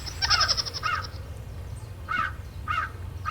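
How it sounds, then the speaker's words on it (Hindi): A crow caws several times nearby, harsh repeated calls in a quick burst followed by two more separate caws, over a low background rumble. "कौवा है और उसकी भी।"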